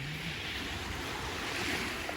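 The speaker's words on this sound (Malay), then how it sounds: "Tu nampak air berombak sikit." Sea waves wash steadily on Teluk Nipah beach on Pangkor island, a continuous broad surf rush mixed with wind buffeting the microphone, with no voices.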